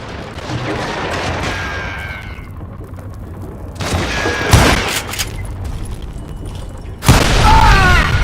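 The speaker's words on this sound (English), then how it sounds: "All it takes is one tiny spark, and boom." Dynamite blasts and gunfire from the Western shooter game Call of Juarez: Gunslinger, several heavy booms that burst out one after another, each trailing off with rumble and debris, loud and close.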